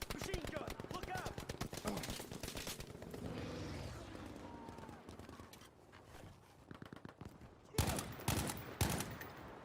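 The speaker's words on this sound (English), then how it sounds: "Machine gun. Look out." Machine gun fire rattles in the video game Battlefield V as dense rapid bursts of shots, heavy at first, then thinning out before a sharp renewed volley near the end.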